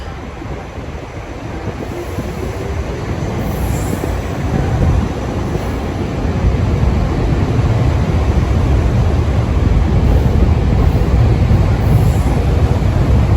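A SEPTA Silverliner IV commuter train bound for Media/Elwyn in the Philadelphia area rumbles past close by. Its loud, steady roar builds slightly and holds for the whole stretch, with no voices.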